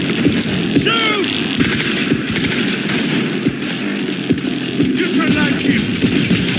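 Gunfire in the video game Cyberpunk 2077, rapid automatic bursts and scattered shots crackling loudly and continuously, layered over combat clatter with brief shouted voices in the mix.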